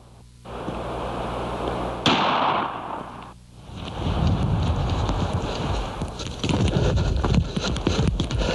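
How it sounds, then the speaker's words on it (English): A single sharp gunshot cracks out during an outdoor turkey hunt, a sudden loud blast with a quick decaying tail, surrounded by steady wind and rustling outdoor noise before and after. "Tuck slept through the whole thing until the gun went off"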